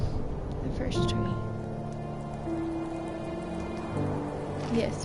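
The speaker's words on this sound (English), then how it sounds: "Yes, rain. Rain for the pup." Rain in the game The First Tree, a soft steady patter on surfaces beneath sustained gentle musical tones, fairly quiet throughout.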